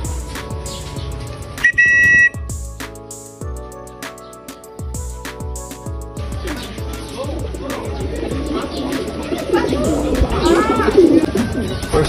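Pigeons coo softly at a loft, with bird calls scattered over a background of clattering and other sounds; a brief electronic beep appears early.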